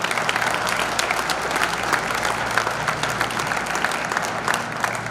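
Steady applause from a large crowd, dense clapping sustained throughout at a fairly loud level.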